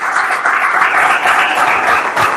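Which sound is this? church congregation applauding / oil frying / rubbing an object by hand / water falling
church congregation applauding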